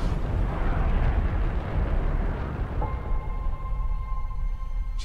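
A space shuttle rocket launch in the Moonfall teaser trailer: a massive roaring, crackling rumble of engine thrust, steady and loud, easing into a quieter tonal hum at the end.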